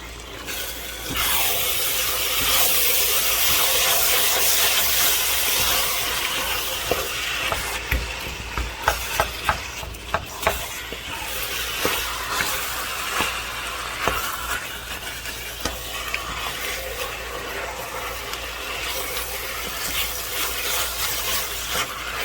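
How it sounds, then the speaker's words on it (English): Meat browning in a pan for a two-meat firehouse chili: a steady, loud sizzle hiss throughout, with scattered clicks and scrapes of a utensil stirring it, no talk. "all we're doing is just browning the meat"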